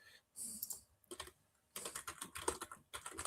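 Bursts of quick clicking keystrokes on a computer keyboard, close and fairly quiet, arriving in irregular runs separated by short pauses.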